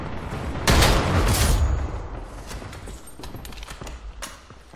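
Gunfire in the shooter game First Assault, a loud close burst of shots followed by quieter scattered shots and clatter.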